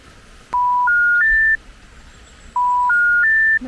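Phone dialing tones: two quick runs of three rising electronic beeps, each run stepping up in pitch, clear and close with a short pause between them.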